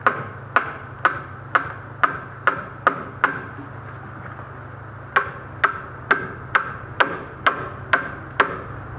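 Nails hammered to tack a deck floor joist for a cabin, a loud, close series of sharp, ringing hammer blows in steady rhythm, with a brief pause midway before another run of strikes.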